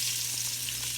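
Onions sizzle in a pot with a steady, bright hiss that stays up close and even, with a low hum underneath.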